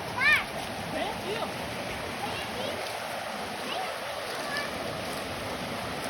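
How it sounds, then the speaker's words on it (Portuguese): Waterfall on a river in a natural setting gives a steady broadband rush of falling water, continuous and moderately distant, with voices talking over it. "Olha bem que queda bonita que tem ali da cachoeira."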